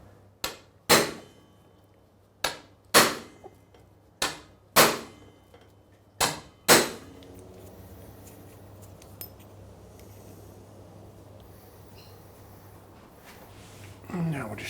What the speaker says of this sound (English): Now using this hand impact wrench, I'll just loosen this nut.